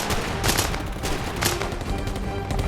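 Bursts of automatic fire from a Sten submachine gun in a Second World War setting, loud rapid volleys in close succession with a dense, noisy background between bursts.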